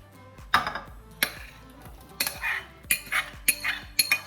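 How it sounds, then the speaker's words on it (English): Metal spoon clinks and scrapes against a pan in a quick series of sharp, close taps and scrapes while spooning strawberry rhubarb crumble mixture, no talking. "we're gonna spoon our mixture into the pan"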